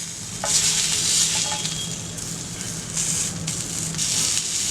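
Chicken steak sizzling on a hot grill, a continuous bright crackle and hiss held close and fairly loud, with a few small pops throughout.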